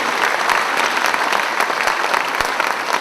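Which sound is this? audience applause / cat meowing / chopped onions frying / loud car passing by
audience applause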